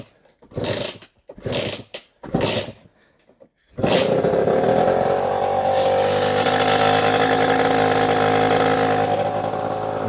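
A 2008 MBK X-Limit enduro motorcycle starts after several short kick or crank bursts, then its engine settles into a steady, loud close idle, slightly uneven as it warms up.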